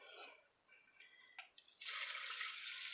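Water poured from a container onto rinsed jasmine rice in a microwave-safe bowl, a steady close splashing fill running about a second, preceded by a few faint drips and trickles.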